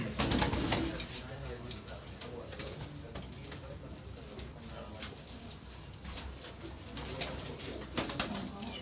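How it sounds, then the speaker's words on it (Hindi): Golden Kamgar flying pigeons coo softly in a noisy loft or rooftop setting, low repeated murmuring calls half buried under steady broadband wind and handling noise, with faint wing and body rustles. "ये हमारे उड़ने वाले कबूतर है, गोल्डन कमगर कबूतर"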